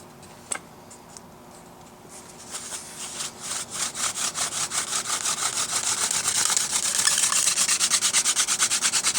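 Rapid rhythmic wooden rubbing of a hand drill spindle builds up and speeds into a fast, steady scraping friction, close and fairly loud, with no talking, while making a friction fire.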